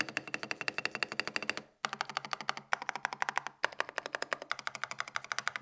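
Close-miked typing on an Epomaker Brick 87 mechanical keyboard with foamy switches and a solid spacebar, rapid steady keystrokes in three bursts separated by brief pauses, clear and alone with no talking.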